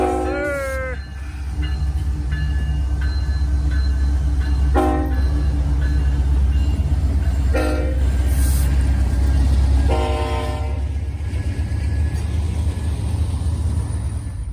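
Freight train led by Norfolk Southern locomotive 1072 rolls past with a heavy, continuous low rumble of wheels and wagons. Its horn blasts in several short toots, loud and close, as the train goes by.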